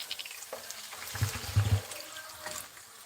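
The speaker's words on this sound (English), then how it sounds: "Now I'm going to add a little water" A little water goes into a pan of lentils cooking on high heat, giving a brief, soft splash and sizzle against quiet kitchen background noise.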